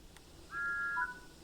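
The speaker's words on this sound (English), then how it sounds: "Thomas blew his whistle and set off along the line." Thomas the Tank Engine blowing his steam whistle in Train Sim World 5 on the West Somerset Railway: a single clear whistle of about half a second over a quiet background rumble.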